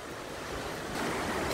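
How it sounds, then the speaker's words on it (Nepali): Steady rushing wind blows against the microphone, a broad roar that swells slightly louder partway through. "कस्तो राम्रो हावा चल्यो अहिले"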